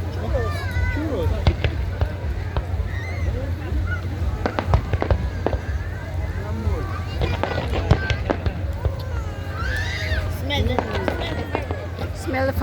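Fireworks burst over Doha's Corniche during Eid celebrations in Qatar in 2023, with repeated sharp bangs and crackles scattered throughout. A crowd chatters steadily close by.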